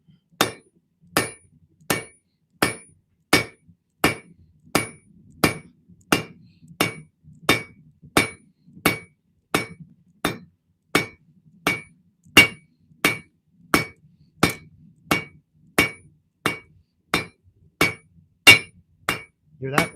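Hammer striking spring steel on an anvil during forging, a long, steady run of about thirty sharp, ringing clanks at a brisk, even pace, close and loud with a metallic ring, with faint low murmuring between blows.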